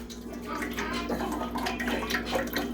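Olive oil pours into a deep fryer for frying chicken, a continuous liquid gurgle and splash that runs steadily throughout under a low hum.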